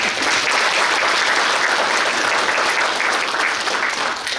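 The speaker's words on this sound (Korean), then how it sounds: "뜨거운 박수 부탁드립니다" Steady, dense applause from a seated audience at a Suncheon city policy talk show on people-centred ecological transport, loud and continuous throughout with no speech over it.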